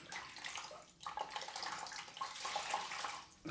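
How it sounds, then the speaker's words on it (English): Tap water running over a cloth being rinsed at a sink during a straight razor shave, a soft continuous splashing with a brief break, heard close and quiet. "Rinse off the cloth."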